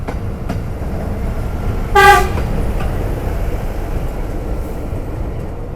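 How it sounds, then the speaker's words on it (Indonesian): An Arjuna rail track inspection train passes a station with steady rumbling, and a short, loud horn blast sounds briefly near the middle before the rolling noise continues. "Ada kereta Arjuna yang merupakan kereta ukur jalan rel ya yang terbaru."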